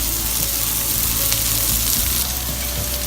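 Sausages sizzle and crackle in a hot frying pan over high heat, a steady, loud, continuous hiss with scattered pops running the whole time, no voices.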